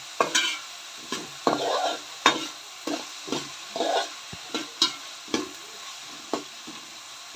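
Onions browning in a pan for a toddy-shop-style country chicken curry, a soft sizzle punctuated by a regular run of about a dozen scraping stirs from a spoon, close and moderately quiet.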